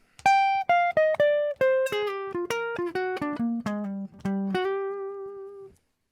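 A jazz guitar plays a phrase from a song. Clean, sharply picked single notes step downward in a quick line and end on a held note that rings out, with no voices.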